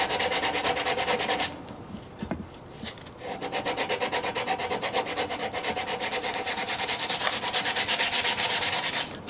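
A wooden guitar is being hand-sanded to take down a small lump, with steady rhythmic back-and-forth rubbing strokes that pause briefly, then resume close and fairly loud with no talking.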